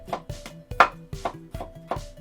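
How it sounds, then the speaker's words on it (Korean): A knife slices a carrot on a cutting board, giving about seven crisp, evenly spaced chops with woody knocks close by, no voices, while a Korean royal-court sinseollo hot pot is being prepared. "당근 재단 해볼게요."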